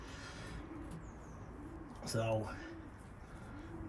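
Racing pigeons in a breeding loft give repeated low, soft coos in a slow rhythm. A brief voice sounds near the middle, with a louder burst of noise at the same moment.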